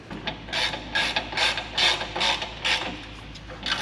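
A ratchet wrench tightens a bolt on a Case IH 2160 planter, about eight rhythmic clicking creaks in quick succession, close and fairly quiet with no talk.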